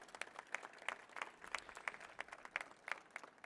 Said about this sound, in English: Give yourself a big round of applause for today.